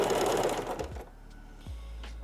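A home sewing machine stitches a twin needle hem, a rapid, close burst of stitching lasting about a second before it halts, leaving a low motor hum and a few faint mechanical clicks.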